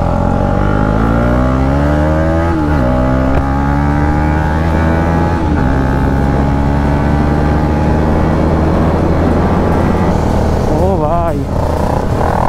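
Motorcycles including a Yamaha R15M and a KTM Duke 250 ride on a road, a loud continuous engine drone with rising and falling pitch as revs change, close and dominant throughout.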